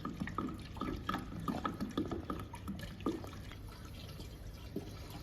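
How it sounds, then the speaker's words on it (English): Pure water poured into a handheld welding machine's tank, a faint, quiet trickle with small gurgles and drips over a low steady hum. "Before start the machine, you need to add water in the machine."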